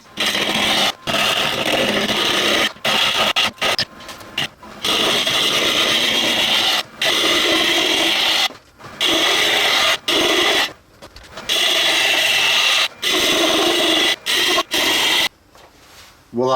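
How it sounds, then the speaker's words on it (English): An Easy Wood Tools roughing chisel held in a tool holder turns a wood blank round on a lathe to make dowels, giving loud, rough scraping in repeated bursts separated by short pauses. "I'm just gonna use the roughing chisel here of the Easy Wood tools in our tool holder, and we're just gonna turn it to round to its rough shape"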